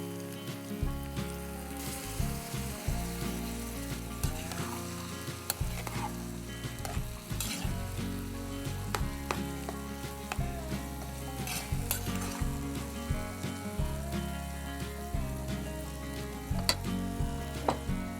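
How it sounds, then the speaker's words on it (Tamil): Water added to a pan of frying toasted vermicelli for biryani, a continuous hissing sizzle with scattered clinks and scraping of a utensil against the pot, heard alone without talk. "இப்போ நான் வந்து கொஞ்சமாக வாட்டர் இதுக்கு அடிஷ்னலாக ஆட் பண்ணுறேன்"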